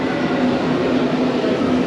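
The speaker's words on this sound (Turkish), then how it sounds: "Benim trenim şu soldaki." A Berlin U-Bahn subway train hums and rumbles steadily nearby, a constant loud drone with a low tonal whine.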